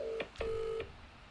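A phone number being dialed, a few short electronic keypad tones in quick succession, faint over a light background hiss.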